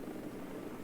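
A Mi-4 helicopter flying in War Thunder gives a faint, steady rotor and engine drone that holds evenly throughout the brief moment.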